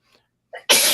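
A single loud, close person's sneeze bursts out abruptly, preceded by a short sharp intake of breath, then holds broad and explosive to the end.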